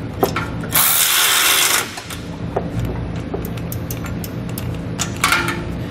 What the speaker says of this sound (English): I'm going to come back with a 19mm socket and a 19mm wrench and tighten them both up until they're nice and snug.